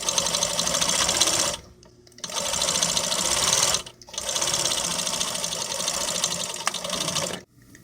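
A sewing machine stitches a seam on an illuminated EL wire collar. It gives a loud, fast steady whir in three bursts separated by brief pauses, close up.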